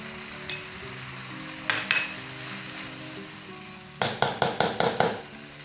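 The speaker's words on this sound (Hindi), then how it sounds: "अब डालेंगे हम टमाटो केचप।" Tomato ketchup stirred into macaroni frying in a pan for an Indian-style chicken veggie macaroni: a soft sizzle with a few scrapes early on, then a quick run of six spoon-on-pan scrapes near the end, all over quiet background music.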